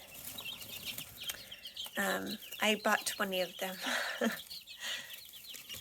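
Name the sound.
chickens clucking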